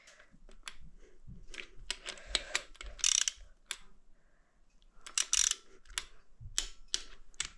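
A torque wrench is tightening engine bolts on a Golf 2 Turbo 1.3 engine block. Close, sharp mechanical clicks and ratcheting come in irregular bursts with quiet gaps between them.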